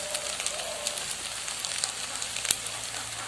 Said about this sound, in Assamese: এতিয়া আৰু অলপ সময় ভাজিম।